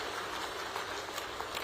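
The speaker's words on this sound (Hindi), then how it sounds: "जोरदार तालियां बजा करके इनका स्वागत" A large outdoor crowd claps steadily at a political rally in Julana, Haryana, welcoming two chief ministers; the applause sounds faint and distant, an even wash with no voices on top.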